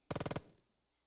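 A short burst of automatic gunfire in the WWII strategy game Burden of Command 3 at Benouville: about eight rapid, loud, evenly spaced shots in under half a second, then a fading echo and quiet.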